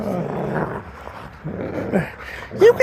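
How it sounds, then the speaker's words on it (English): Pet dogs growl, whimper and yip in excited bursts close by, their noises rising and falling unevenly, with a sharp high yelp near the end and a person's voice mixed in. "my dogs think I'm a different person because they're just losing it"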